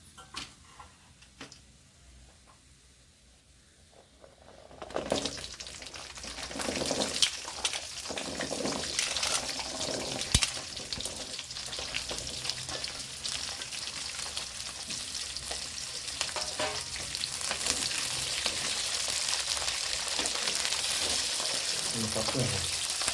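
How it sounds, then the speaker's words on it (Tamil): Onions dropped into hot oil in a pan, a broad hiss that bursts up after a quiet stretch and keeps sizzling steadily, growing louder toward the end, with scattered stirring clinks and some talk early on. "2 கப்பு வெங்காயம் போட்டிருக்கு."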